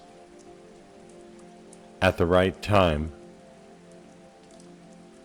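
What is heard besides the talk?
rain falling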